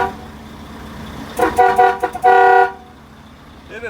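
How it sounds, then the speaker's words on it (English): A train horn fitted to a car lets out a couple of short stuttering blasts and then one longer, loud, brassy honk that cuts off abruptly, over a low background rumble. "this is the train"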